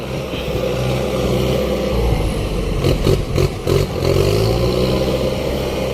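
A heavy diesel excavator engine rumbles steadily at a distance while loading soil onto a truck, with a few soft clanks in the middle, no voices.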